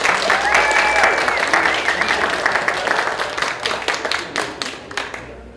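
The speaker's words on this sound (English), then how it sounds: "a big round of applause" An audience gives a round of applause to welcome a speaker, dense clapping that gradually thins out into individual claps toward the end.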